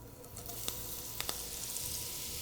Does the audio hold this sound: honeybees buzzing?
no